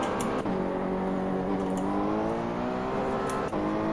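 Race car engine in the video game Assetto Corsa, with a steady high engine drone that climbs in pitch through each gear, broken by a couple of quick shifts, loud and continuous with no talk.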